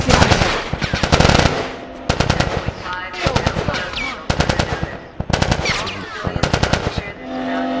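Automatic weapons fire in the video game The Last of Us, with loud rapid bursts of gunfire repeating in close clusters through the clip and brief gaps between the bursts.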